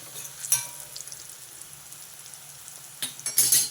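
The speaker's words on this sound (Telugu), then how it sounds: "కొంచెం ఈ కసూరి మేతి ఆయిల్లో వేగితే ఆ ఫ్లేవర్ చాలా బాగుంటుంది" Kasuri methi fries in oil with browned onions, giving a soft, continuous close sizzle with scattered light spoon clinks, then louder stirring scrapes and bursts toward the end.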